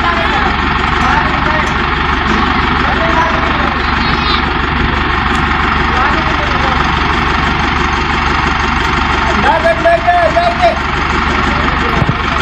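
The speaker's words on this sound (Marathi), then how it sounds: "तर आता निघालं ट्रॅक्टर, पसारा भरलाय सगळा." Tractor loaded with sugarcane-harvest gear setting off, its engine rumbling steadily and loudly throughout, close by with faint voices in the background.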